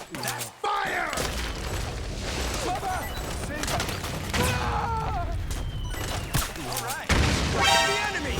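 Gunfire and explosions in the video game Metal Gear Solid 4 rattle in dense bursts throughout, with booms and crashes layered under a voice shouting over the battle.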